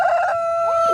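Rooster Mr. Cuddles crows once, close and loud, a strained call among a small backyard flock of old hens, the harmonic tone holding steady before trailing off.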